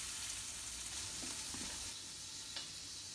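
Steady broadband sizzle of bacon frying in a pan, with a few faint clicks and scrapes, no talking.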